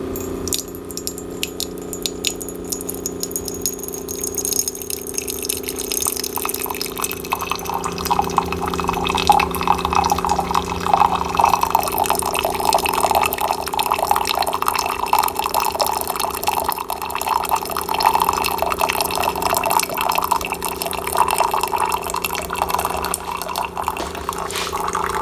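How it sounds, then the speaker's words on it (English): A Keurig K-Duo Plus coffee maker runs its initial cleaning cycle with a steady mechanical hum, while water drips and trickles continuously throughout, moderately loud and close. "You can hear it starting."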